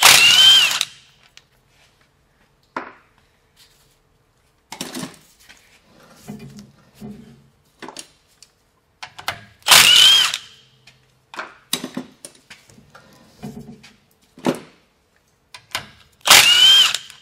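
A half-inch impact wrench with a socket and extension loosens the pinion flange bolts on a Ford F-150 two-piece driveshaft, firing in several sharp hammering bursts separated by quiet gaps and small clinks.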